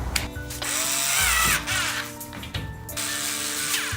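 A power drill drives bolts into a stainless steel work table frame in loud, close bursts of whining motor with rising and falling pitch, separated by short stops and rattling clicks.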